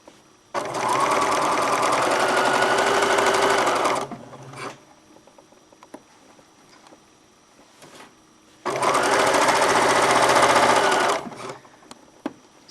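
A sewing machine stitches a quilt in two loud, steady whirring bursts of about four and three seconds, separated by quieter handling clicks and fabric rustles, heard up close.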